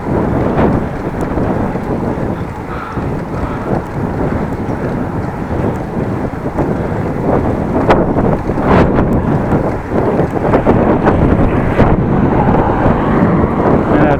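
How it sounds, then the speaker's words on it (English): Loud, constant wind buffeting the microphone while cycling on flat, open, unsheltered land near the N360 between Appingedam and Groningen, a dense roaring rumble that barely lets up throughout. "all around it is flat as a pancake, not shielded from the wind at all."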